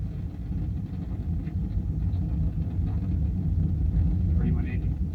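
Deep, steady roaring rumble of an Atlas rocket climbing after launch with its solid rocket boosters burning, a dense low-frequency roar that continues without a break, with a radio commentary voice running over it.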